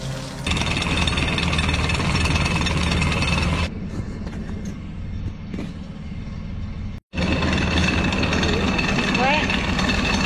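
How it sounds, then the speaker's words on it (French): A sailboat's saildrive engine runs on test, a loud steady mechanical drone with rattling, briefly cut off near the end before resuming; voices are faintly present. "On va tester les moteurs comme un moteur hors bord"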